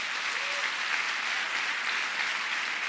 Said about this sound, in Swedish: Nu får ni ge dem en riktig applåd igen.